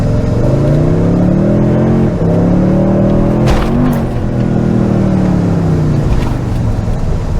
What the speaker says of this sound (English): Let's see what this 6-cylinder twin turbo can do.